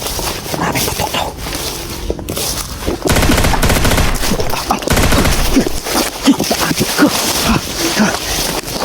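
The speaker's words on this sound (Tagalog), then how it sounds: "Maraming putok daw." Rapid bursts of gunfire from a video game, with dense volleys and scattered shots running throughout at high loudness, heavier and more continuous in the second half, with background game sounds layered in.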